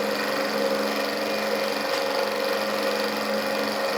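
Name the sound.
Stirling engine running at high RPM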